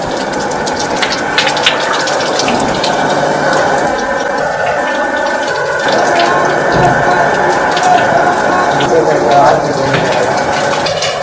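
Monoblock electric water pump drawing water from a tank, a steady loud gushing and splashing flow with a continuous motor hum, close by, under someone talking throughout.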